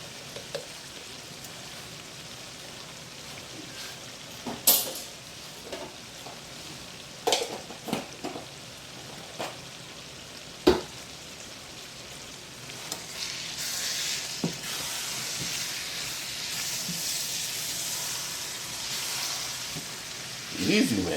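Garlic frying in a hot pan in a home kitchen gives a soft steady sizzle with scattered sharp clicks and taps of a utensil, the crackle growing denser and brighter in the second half.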